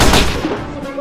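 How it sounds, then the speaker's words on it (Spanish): A single loud gunshot goes off in the Warfare Tycoon military video game, a sharp close blast that decays into a short fading rumble. "y pum, balazo entre ceja y ceja"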